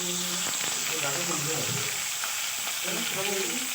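Snakehead fish frying in hot oil, giving a loud, continuous sizzle with a few soft bubbling crackles. A faint voice talks in the background.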